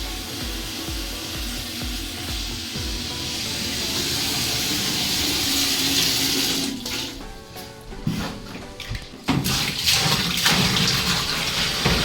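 Hot water poured out of a bucket at home, a loud continuous splashing rush that changes character midway into gushing, uneven bursts of water.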